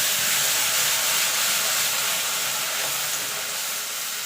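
Ground onion paste sizzles in hot oil with a bay leaf and whole garam masala spices, a steady loud hiss of frying that carries on without a break and with no voices.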